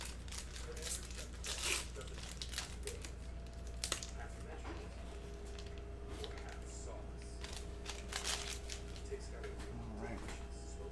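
Foil wrapper of a 2019-20 Panini Chronicles basketball card fat pack crinkling and tearing open, with bursts of rustling and crumpling over a steady low hum; a voice murmurs faintly in the background.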